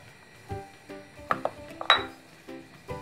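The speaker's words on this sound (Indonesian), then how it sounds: "Aduk sampai benar-benar tercampur rata." A utensil stirs batter mixed with melted butter in a bowl while making pisang goreng kopong. It gives a series of close, light clinks and scraping taps against the bowl at an uneven rhythm.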